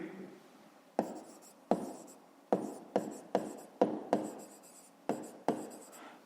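Handwriting on paper during a Ukrainian fifth-grade maths exercise: about nine sharp, close scratching strokes in an uneven rhythm, each one quick and fading, with a little speech at the start.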